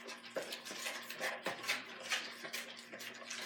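Homemade slime of glue and contact solution is stirred in a bowl, giving a rhythmic series of soft, wet scraping and clicking strokes, close and quiet, with a faint steady hum underneath.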